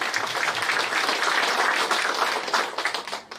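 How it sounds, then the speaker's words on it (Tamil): A crowd applauds with dense, steady clapping that thins out toward the end, a room full of hands without any voices over it. "யாரெல்லாம் அட்மிஷன் போட போறீங்களோ ஒரு நல்ல கைத்தட்டல் கொடுத்துக்கோங்க அவங்களுக்கு நீங்களே"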